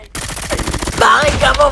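Rapid automatic gunfire in a video game, loud and close, a dense run of repeated shots with a voice talking over the later part.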